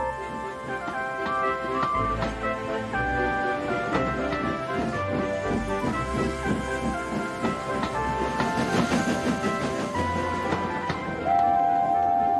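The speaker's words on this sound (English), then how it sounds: "They chuffed gently into the station." Rhythmic chuffing of a steam train in the video game Trainz runs steadily throughout, layered with tonal hums and clanks, fairly close and continuous.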